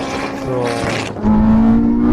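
At a drag race start, a 1,000 hp Honda all-wheel-drive car and a Porsche 918 Spyder rev their engines. A loud, rising engine tone surges up close after a brief lull.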